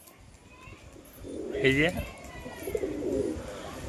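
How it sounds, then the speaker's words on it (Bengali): Four desi Giribaz-line pigeons are released into the sky, with soft cooing and bird calls rising briefly amid nearby speech and outdoor background noise. "4টে কবুতর আকাশে দিলাম।"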